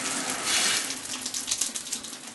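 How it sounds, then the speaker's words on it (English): Water bursts out of an opened plumbing compression fitting bypass, a loud close gushing spray that surges and splashes unevenly for a couple of seconds. "Water's going absolutely everywhere"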